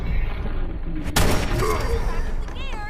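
Combat rifle shots in the video game Fallout 4, a sharp loud crack followed by lingering echo amid game ambience, with a voice talking over it.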